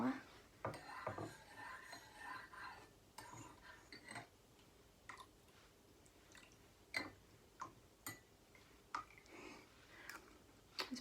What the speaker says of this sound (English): I'm just gonna stir mine a little bit more.